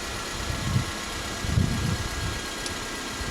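A Toyota Corolla engine idling just after an oil change, a low, steady rumble with gentle uneven throbs, moderately quiet and heard alone for a few seconds.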